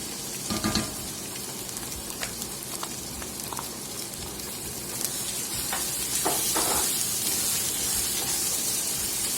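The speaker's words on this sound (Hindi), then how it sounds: "अब इसमें जाएगा टमाटो का पेस्ट" Tomato paste fries in hot oil for a black chana curry, a continuous close sizzle with scattered crackles and pops that swells slightly toward the end.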